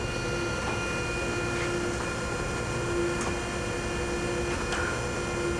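An Okamoto precision surface grinder runs steadily as its saddle travels, giving a continuous machine drone with a faint hydraulic hum and light periodic ticks, close and even throughout.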